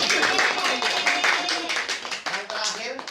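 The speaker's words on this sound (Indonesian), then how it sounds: "Ya, beri tepuk tangan." Students in a sixth-grade classroom clap together, a bright, fairly close rattle of many hands with uneven bursts, a voice or two mixed in briefly.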